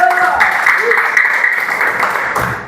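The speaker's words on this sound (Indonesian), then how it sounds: "Kasih tepuk tangan dong buat Tuhan kita." A church congregation at a Sunday service claps for God, a steady wash of applause running the whole time beneath a loud voice speaking over it.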